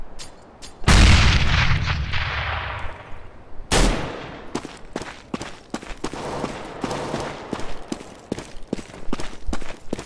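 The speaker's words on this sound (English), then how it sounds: "Grenade out!" A grenade detonates in Counter-Strike: Global Offensive on the Dust 2 map: a loud, close blast that rumbles and fades, a second heavy boom about three seconds later, then scattered sharp gunshots crackling through the rest.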